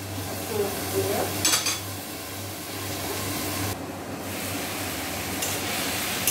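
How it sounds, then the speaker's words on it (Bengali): Vegetables for sukto being stirred in an uncovered pan, with a soft continuous sizzle, a few scrapes and clinks of a spoon against the pan, and a low steady hum in the background. "ঢাকাটা তুলে দিয়ে এবার সবজিগুলো একটু ভালোভাবে নেড়ে দিচ্ছে।"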